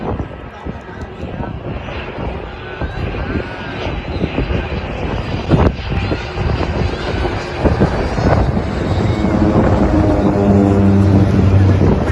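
A military jet, an F-16 or T-50, flies overhead at an air force base air show, its engine roar building steadily into a loud sustained rumble, with people talking over it amid crowd noise.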